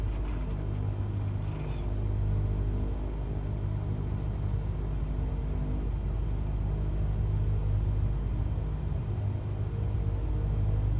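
A Cessna 172 piston engine rumbles steadily at low throttle while taxiing, a constant near drone heard from inside the cabin throughout.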